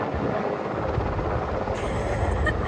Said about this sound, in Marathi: हवेत कावळ्यासारख्या तिथे हेलिकॉप्टर उडवत आहेत गड गड गड गड गड गड करून